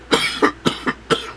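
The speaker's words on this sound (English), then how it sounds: "Now all of a sudden he's coughing." A person coughs five times in quick succession, each a short, close, harsh burst with brief gaps between, and no talking around them.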